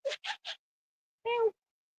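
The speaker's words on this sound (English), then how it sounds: "He's a nice cat." A cat meows: three quick, short chirping calls close together, then after a pause a single longer, fuller meow, all close and clear with silence between.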